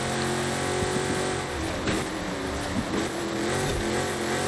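A car engine in Forza Horizon 5 drones steadily and loudly, with small rises and dips in pitch as it revs through the whole stretch, the sound continuous and up close.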